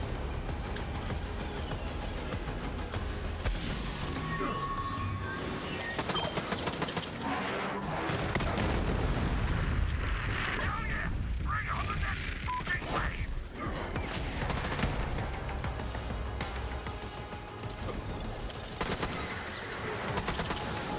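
Rapid gunfire and clattering weapon effects in the shooter game Borderlands 3, a dense continuous barrage of shots and impacts running throughout, with someone talking over it.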